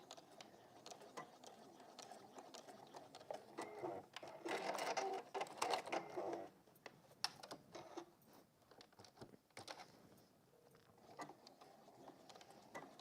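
A sewing machine stitches through a fold on a textile bag, running in short mechanical bursts as it goes forward and then reverses to lock the stitches, a louder busy stretch in the middle among quieter clicks and handling noise.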